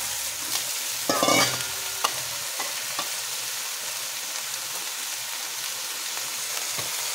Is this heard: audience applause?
no